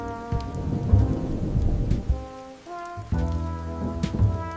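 Steady rain with rolling thunder, a broad low rumble under a constant wash of rainfall, with a sustained tonal drone or music-like hum running through it and a sharper crack near the end.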